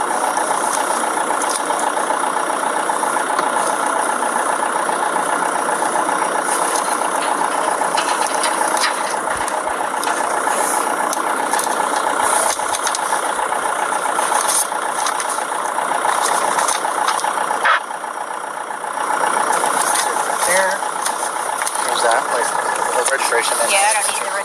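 Diesel Volkswagen Jetta engine idling during a roadside police stop, a steady loud hum that runs without a break under ongoing conversation.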